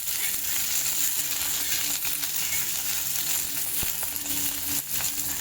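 Green chilies fry in a little oil in a pan, giving a steady, close sizzle and crackle throughout with faint scattered pops and clinks.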